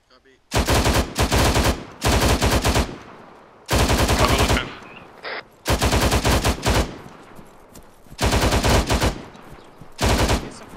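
Automatic gunfire in the Arma 3 military shooter game, with loud, close, rapid bursts of machine-gun fire repeating in sharp volleys with brief pauses between them.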